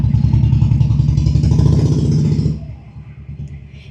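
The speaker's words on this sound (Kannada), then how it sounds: "ಯಾರಿಗೆಲ್ಲ ಈ ಬೈಕ್ ಸೌಂಡ್ ಇಷ್ಟ ನನಗೆ ಕಾಮೆಂಟ್ ಮಾಡಿ ತಿಳಿಸಿ" A motorcycle engine throbs loudly up close with a rapid, pulsing rumble, then fades quickly as the bike moves away.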